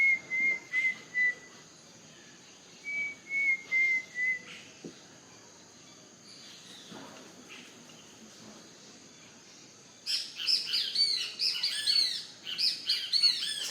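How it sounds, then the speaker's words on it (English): Turkey birds in Ecuador call across open countryside, with soft whistled notes early on and then a burst of busy, overlapping chirping calls near the end, set against a faint insect hum and no voices. "there's at least 3, maybe 4 of these turkey birds"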